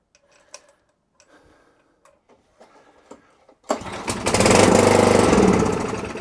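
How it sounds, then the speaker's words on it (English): An Arco Royal B24 cylinder mower engine starts after scattered faint clicks and knocks, then runs loud and steady, revving up near the microphone. "So the machine does actually rev up, which is good."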